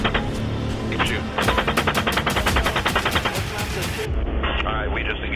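Machine gun fire in combat footage, rapid bursts of close, loud automatic shots in a steady rhythm, with voices and radio-like noise around them.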